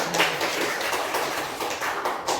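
Students in a classroom clap together in a short burst of applause, loud close hand claps with a loose rhythm lasting a couple of seconds.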